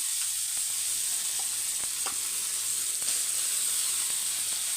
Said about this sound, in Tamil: மீன் வறுவல் அதை வந்து நம்ம வறுத்துக்கலாம்